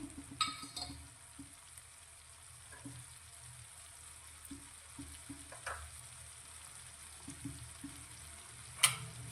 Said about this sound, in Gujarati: બધા જ મસાલાને આપણે શાકની સાથે મિક્સ કરી અને 1 મિનિટ માટે મસાલાને સાતળી લઈશું